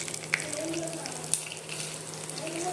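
Mustard seeds and coriander seeds frying in oil for gongura pachadi, a continuous close sizzle with faint crackles and a couple of soft clicks.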